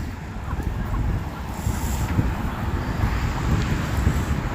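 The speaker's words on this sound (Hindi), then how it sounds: "ठंड है, हवा चल रही है सामने दरख्तों से" Cold wind gusting steadily outdoors through trees in Toronto, a loud continuous roar with buffeting rumble across the mic and no break for the whole stretch.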